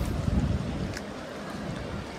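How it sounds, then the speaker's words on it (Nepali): A roaring, dangerously flooded river rushes past in a steady, dense low roar of churning water. No one speaks, and a faint gusting noise sits over the water. "खोला बजेको सुन्नु हुँदैछ होला नि"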